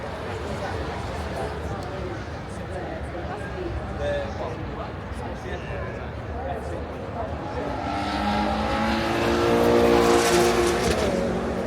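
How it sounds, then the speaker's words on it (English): A Ferrari sports car engine drones steadily and then swells louder toward the end as it revs at the Goodwood Festival of Speed, with people talking nearby over the noise. "That's the Ferrari Puro sound."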